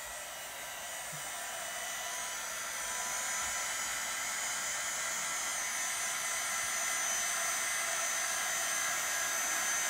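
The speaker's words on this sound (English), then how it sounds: "Get my little heat gun going." A small electric heat gun blows with a steady, loud rushing whir that climbs slightly and then holds even, close up, with no speech throughout.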